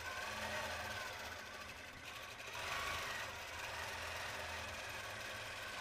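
A pantograph quilting machine runs steadily with a continuous mechanical hum and rapid stitching buzz, loud and close, with no one talking.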